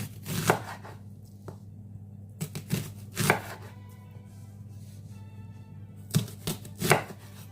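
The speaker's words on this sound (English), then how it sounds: "So let's cut up the onion." A knife chopping a red onion on a cutting board while cooking Jamaican-style cabbage soup, with several close, crisp cuts arriving in small clusters between quiet pauses.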